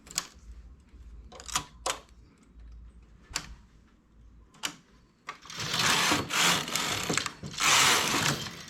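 A domestic knitting machine carriage runs across the needle bed for two rows, preceded by sharp separate clicks and clacks of needle and transfer-tool handling, then a louder continuous rattling swish of the carriage passes.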